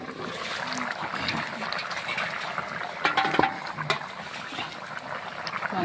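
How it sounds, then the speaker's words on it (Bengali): Large pieces of goat meat boiling in a pot, a steady close bubbling and churning of liquid throughout, with a few brief clatters partway through and no talk. "মাংসটা সুন্দরভাবে ফুটে গেছে।"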